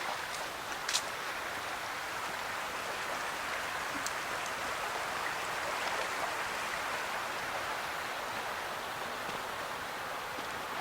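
A creek flows through a steep wooded ravine at Tucquan Glen Nature Preserve, giving a constant, close rushing hiss of water with no voices.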